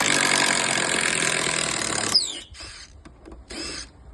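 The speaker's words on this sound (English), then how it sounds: "get your other drill" A power drill whirs loudly and steadily for about two seconds, winds down, then gives two shorter bursts with pauses between.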